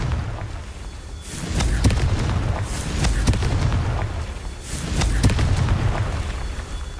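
Confringo blasting spell in the Hogwarts Legacy video game, loud booming explosive bursts repeating in waves over a low rumbling background, several sharp cracks within each blast.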